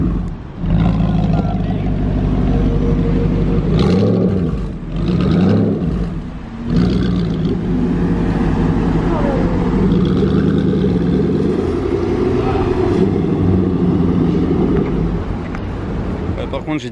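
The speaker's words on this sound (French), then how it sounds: "vu le bruit c'était un V8 premièrement" Aston Martin V8 engine on a black car with red details and a manual gearbox, droning loudly and steadily, with rising revs and a few deeper surges, while people talk over it.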